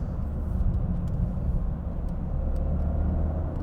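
A 2023 Toyota GR Corolla's three-cylinder engine drones steadily with a deep, low rumble while driving, continuous and fairly loud throughout with no talking.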